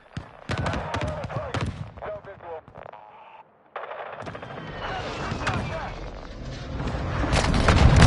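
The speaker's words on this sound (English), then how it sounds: "Friendly precision airstrike inbound." Explosions and gunfire of a precision airstrike in a Call of Duty: Modern Warfare 2 multiplayer match, with repeated loud blasts and rattling shots, a brief lull, then a rising roar of detonations building to the end, with voices talking over the action.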